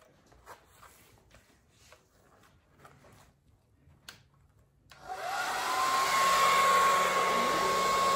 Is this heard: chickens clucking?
no